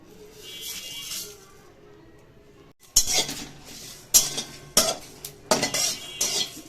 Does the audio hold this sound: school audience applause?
no